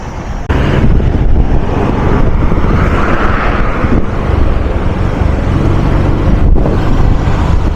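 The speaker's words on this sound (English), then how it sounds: "So those are trucks going to Kenya." Heavy trucks and traffic roll along the Kampala-Jinja highway through the Mabira section in Uganda, a loud, continuous close-up roar of tyres and engines that swells and ebbs as vehicles pass, with no voices.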